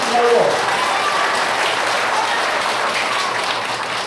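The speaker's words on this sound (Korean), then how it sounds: "박수를 친다면 흐뭇하게 한번 치세요." A large audience at a Senior Citizens' Day event applauds loudly and continuously, a thick, even roar of clapping that holds at full strength and fades slightly near the end.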